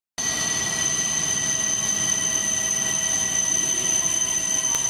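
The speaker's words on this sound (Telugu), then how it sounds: "రెండు బుల్లెట్ ట్రైన్స్ కలిపి ఒకదానికొకటి అతుక్కొని ఒకే ట్రాక్లో వెళ్ళడం కూడా" Japanese Shinkansen bullet trains, two coupled units running together on one track, give a steady, loud rushing rumble with a constant high whine that holds throughout.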